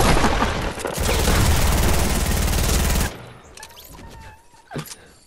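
Rapid, loud gunfire from a Fortnite-style battle game, a dense continuous burst of shots for about three seconds before cutting off, followed by quieter scattered in-game sounds and a couple of thuds.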